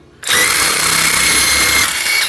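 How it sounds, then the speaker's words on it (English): A power drill drilling out a nut whines loudly at a steady high pitch in one continuous burst, heard close up. "You can drill it on out."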